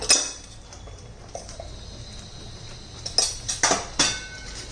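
A metal spoon stirs paneer masala in a cooking pot, light scraping for a few seconds, then a run of sharper clinks and taps against the pot's side.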